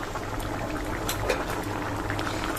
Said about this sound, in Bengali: তো এর উপর দিয়ে দিয়ে দেব হচ্ছে সরষের তেল কাঁচা